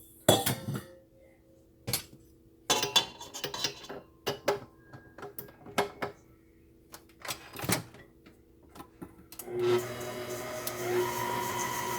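Sugar being mixed into an apple fudge cake batter: irregular clinks and scrapes of a utensil against a bowl, close and intermittent, ending in a steadier whirring blend.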